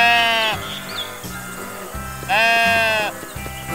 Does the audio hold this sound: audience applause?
no